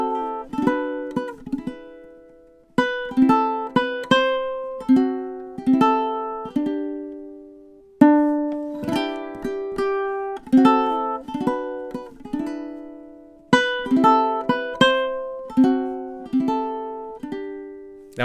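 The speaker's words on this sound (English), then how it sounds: "So that's our third melody, the Jazzy O Christmas Tree." A ukulele plays a jazzy arrangement of O Christmas Tree, thumb-strummed chords and melody notes in steady phrases with brief gaps, close and bright with no voices.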